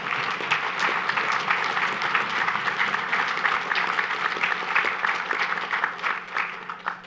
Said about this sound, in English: Now, you can applaud for that one, Perry.